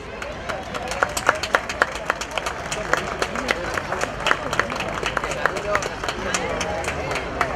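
An outdoor garden-concert audience claps for a swing group's introduction, with a crowd of hands beating in a lively, slightly uneven rhythm under a buzz of chatter and some nearby voices.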